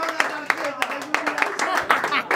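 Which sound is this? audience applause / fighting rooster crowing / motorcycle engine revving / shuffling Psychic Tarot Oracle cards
audience applause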